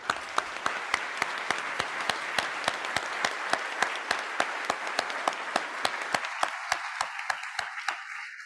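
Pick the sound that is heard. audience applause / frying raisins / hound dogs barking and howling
audience applause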